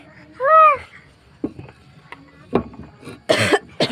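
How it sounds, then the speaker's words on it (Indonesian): Harsh, broadband coughs burst out a few times in a home setting, spaced irregularly with the last loudest, after a short wailing, voice-like sound near the start. "Adik ketakutan dengar batuk kan"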